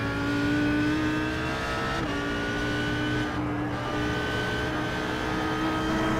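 Audi race car in an iRacing Blancpain Sprint Series race: a steady, loud engine drone held near full throttle, with a sustained tonal whine and a slight dip and recovery partway through.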